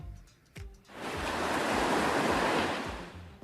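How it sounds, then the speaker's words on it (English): Ocean waves in a demo, a brief rumble giving way to a loud, sustained broadband surf wash that swells and holds, with no voices. "it can find the sound of waves."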